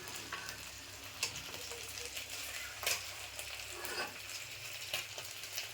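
Stuffed capsicum (bell peppers) frying in a pan, with a steady, fairly quiet sizzle and a few scattered pops and light stirring taps throughout.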